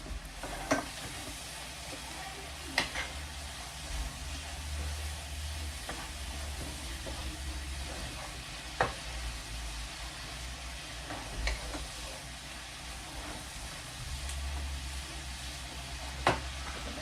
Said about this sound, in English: All right, back over to the cabbage. We're gonna give this a mix.